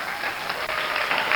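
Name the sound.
applause from school assembly audience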